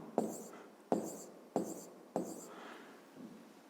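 A pen writing numbers by hand on paper, heard as four quick scratchy strokes with short pauses between them, close and quiet, followed by a fainter final stroke.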